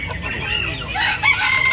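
A young rooster at a Vietnamese chicken show in Hóc Môn crows in a strained, rising call, with clucks and crowd chatter around it.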